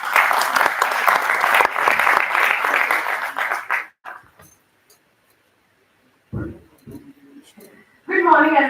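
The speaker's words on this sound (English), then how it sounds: "Let's give them a big round of applause." Audience applause at a national marketing summit in Delhi greets the club coordinators, a loud sustained wash of clapping for about four seconds that fades into quiet, followed by brief scattered sounds and a voice beginning to speak.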